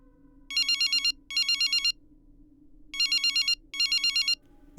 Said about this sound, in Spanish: Mi teléfono sonó.